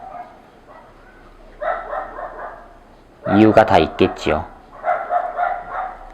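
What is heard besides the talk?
dogs barking outside an open window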